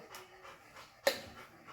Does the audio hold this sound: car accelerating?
no